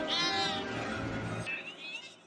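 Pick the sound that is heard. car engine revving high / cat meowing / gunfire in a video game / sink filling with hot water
cat meowing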